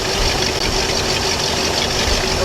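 A boat's inboard engine idles at the dock, coupled to a Velvet Drive marine transmission, giving a steady, continuous low rumble with a constant mechanical hum, close and unbroken throughout, with no speech.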